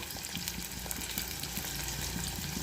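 Spices sizzle in hot oil as a tempering for stuffed brinjal curry, a dense, steady crackle of frying with small pops throughout and no voices.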